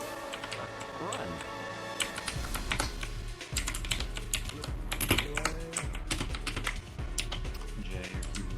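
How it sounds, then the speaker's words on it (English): Computer keyboard typing in rapid, irregular bursts of clicks that run throughout, up close and fairly loud, over steady background noise with a faint game soundtrack. "your keyboard sounds very audible"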